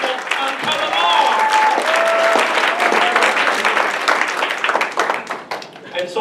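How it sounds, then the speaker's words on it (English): A church congregation applauds its young people with a full, steady round of clapping that fills the room, with a few voices and tones mixed in, then thins slightly toward the end. "I think we should give our young people a big hand clap of appreciation."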